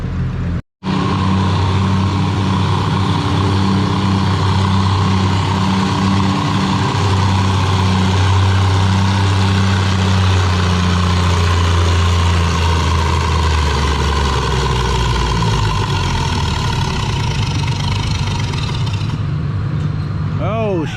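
Pulling tractor at a tractor pull event, a loud, continuous heavy engine roar with low droning harmonics that holds steady for about twenty seconds, then cuts off.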